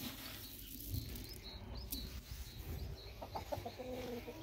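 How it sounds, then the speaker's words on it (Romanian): A crossbred Leghorn rooster clucks among other farmyard birds. Several short calls and chirps sound at moderate distance over a constant background of outdoor noise. "Un cocoș de lehor, metis."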